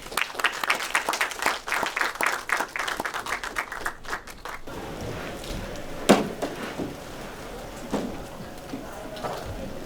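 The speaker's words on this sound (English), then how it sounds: "Please give them a warm aloha and round of applause." Applause at a panel discussion on the end of the war in August 1945: scattered rhythmic claps build and then fade after a few seconds, leaving quiet room noise with a few thumps.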